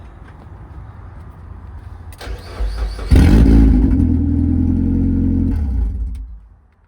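A Ford Escort on 120,000 miles with no exhaust or catalytic converter idles roughly, then revs hard and loud with a raw, clattering bark, holding high revs for a few seconds before dropping away.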